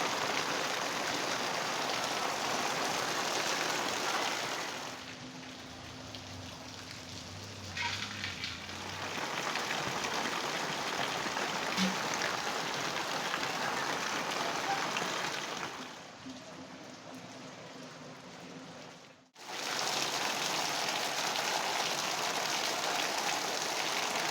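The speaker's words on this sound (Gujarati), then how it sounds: "અહીંયા વધારેમાં વધારે વરસાદ આવી રહ્યો છે" Heavy rain pours in a dense, steady roar, breaking off briefly twice before resuming at full intensity.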